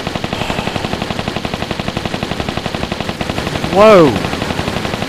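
Rapid automatic gunfire from a powerful weapon in Tomb Raider III, a fast steady stream of shots throughout, loud and close, with a brief exclaiming voice breaking in near the end.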